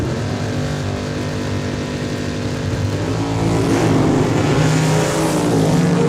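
Richie Harder's RWH Motorsports dragster at the start line of a points race at Saskatchewan International Raceway, a loud sustained engine roar that swells and rises in pitch as the car launches, heard without talk.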